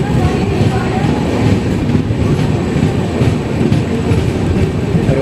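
Onboard the Kannur–Yesvantpur Express 16528 as it nears Thalassery station, a dense, loud, continuous rolling rumble with faint wheel clatter fills the carriage, and a murmur of voices sits underneath.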